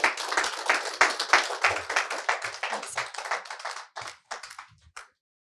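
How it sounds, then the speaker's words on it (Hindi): An audience at a live stock market and trading session claps to welcome a guest. Brisk, fairly close clapping holds steady for about four seconds, then thins into a few scattered claps and stops. "इसी के साथ जोरदार तालियों के साथ स्वागत करते हैं अर्जुन टंडन जी का"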